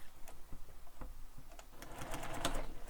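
A sewing machine puts a second row of stitching on a backpack, with quiet uneven ticks and clicks at first, then a short burst of close, rapid stitching.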